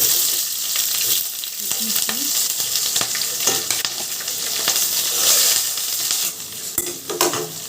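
Onions fry in used oil in a pan for chicken fried rice, giving a steady bright sizzle with scattered stirring scrapes and clinks, loud and close with no talking.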